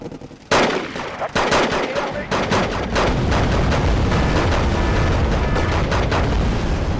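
Bombs and gunfire in the video game Wargame: Red Dragon: a few sharp shots open into a loud, continuous barrage of machine-gun fire and explosions, heavy and sustained.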